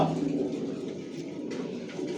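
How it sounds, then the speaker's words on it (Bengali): Racing pigeons of one bloodline in a loft give soft, low, continuous cooing, faint and muffled, with no speech. "আমার লফটে সব একই লাইনের কবুতর পালি"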